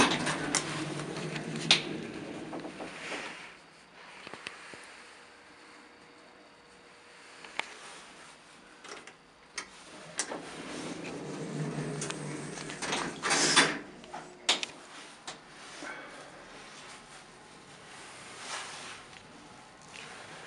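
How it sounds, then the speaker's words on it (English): A vintage Otis traction elevator in an old building runs with a low mechanical hum, scattered clicks and ticks, and sliding door or gate clatter, fairly near and uneven in level over about twenty seconds. "I knew there'd be an old elevator in here."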